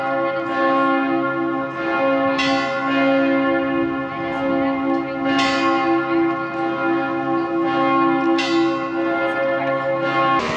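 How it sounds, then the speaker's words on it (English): Church bells peal at Buda Castle in Budapest, Hungary, with several bells striking in overlapping rhythm over a sustained, ringing hum, loud and continuous throughout, with no talk. "the church bells are going off at the church."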